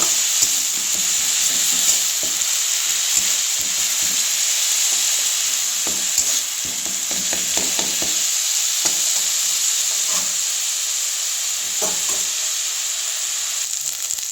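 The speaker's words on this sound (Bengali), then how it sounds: "এবার দিয়ে দেবো পেঁয়াজ বাটা, দিয়ে নেড়ে নেব।" Onion paste fries in a pan with whole garam masala for a prawn malai curry, giving a constant bright sizzle punctuated by repeated stirring scrapes and clicks of the spoon.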